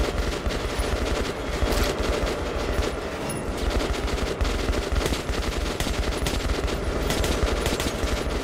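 Sustained automatic gunfire from the Metro Last Light Redux video game, a dense unbroken stream of rapid shots at steady loudness with no talking.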